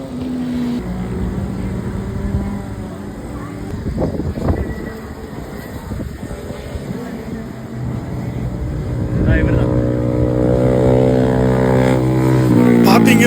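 A motorbike ridden on a racing track, its engine droning steadily and then whining higher as it speeds up near the end, with a voice talking over it.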